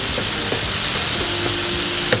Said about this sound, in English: Let it saute well until the tomatoes are nice and mushy